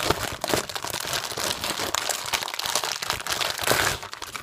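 Package wrapping crinkles and rips as it is torn open by hand, a close, continuous crackling of plastic and paper with no talk.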